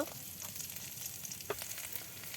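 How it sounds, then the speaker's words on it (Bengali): Chopped onion and green chilies fry in oil left over from frying fish, a soft, steady sizzle with brief crackling bursts, faint and close, without any voices. "মাছ ভাজার পর ওই তেলেই পেঁয়াজ কুচি আর কাঁচামরিচ কুচি দিয়ে দিল"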